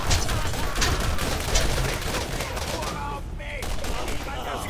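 Dense, continuous automatic gunfire from the video game Borderlands, loud and close, a steady barrage of overlapping shots and impacts with a brief dip near the end before firing resumes.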